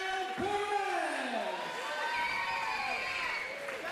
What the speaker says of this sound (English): Everybody, let's give a big round of applause to your champion, Adrian Wilson.